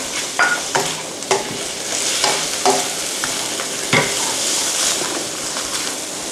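Champignon mushrooms and asparagus stir-fried in a hot pan, with a continuous close sizzle broken by repeated sharp scrapes and clacks of a spatula tossing the ingredients; no talking.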